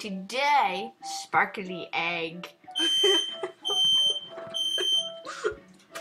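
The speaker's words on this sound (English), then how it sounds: "Sorry about the loud beeping noise." A smoke alarm beeps loudly in a room, a series of sharp repeated electronic tones cutting in and out while people talk over and between them.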